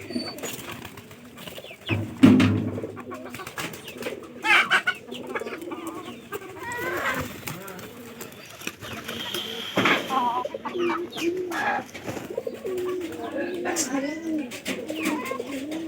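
A flock of pigeons in a loft coo and murmur steadily while being given feed, the low rolling coos overlapping close by for the whole stretch, with a sharper flutter or clatter near the start and faint human voices at times.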